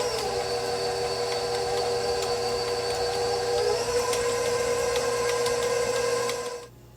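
Electric hand mixer running on low, blending chopped pecans into carrot cake batter: a steady motor whir with small knocks from the beaters, near and alone, stopping abruptly at the end.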